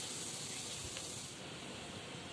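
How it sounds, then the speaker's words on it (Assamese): Spice paste for spinach paneer fries briefly in a pan, giving a faint, steady hiss and soft sizzle, quiet and close, with no one talking. "দিছোঁ মই পেষ্টখিনি আৰু ইয়াক অলপ সময় ভাজি ল'ব"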